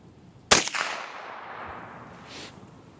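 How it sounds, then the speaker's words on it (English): A single sharp report from a .22 semi-automatic rifle firing CCI Mini Mag ammunition outdoors, one close crack with a short decaying tail and a faint secondary click afterward. "This will be shot number 4 on the Mini Mags"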